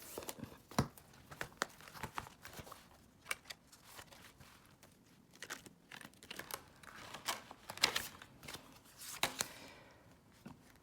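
Cash being pulled out of budget envelopes, a run of quiet close paper rustles, crinkles and flicks of banknotes in irregular bursts, no talking.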